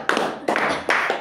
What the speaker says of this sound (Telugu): వెరీ గుడ్, చప్పట్లు కొట్టండి.